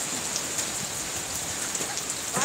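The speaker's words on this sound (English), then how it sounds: "very fast raining is coming and we are just here." Heavy rain falls in a steady, close hiss of drops on surfaces, constant and loud from start to finish with no talking.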